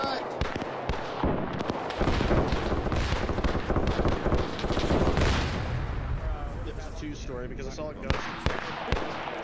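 Rapid, dense MG 42 machine-gun fire from the Arma 3 video game rattles on almost without pause, mixed with other battlefield gunfire and blasts, while someone talks over it.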